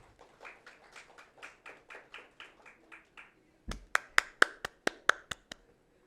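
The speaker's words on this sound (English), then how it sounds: "Only my applause is like audible." A lone person claps for a prize winner on stage at a business roadshow event in Mumbai, a steady run of about a dozen claps followed by a second burst of sharper, louder claps, close by with no speech.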